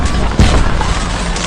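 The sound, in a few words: military base exploding in an action film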